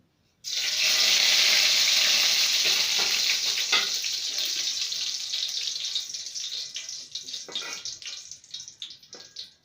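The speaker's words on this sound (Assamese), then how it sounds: "মই তেলতে তেজপাত এখিলা দি দিম" A bay leaf drops into hot oil, and a sudden loud, steady sizzle bursts up, then slowly settles and fades into a crackling hiss.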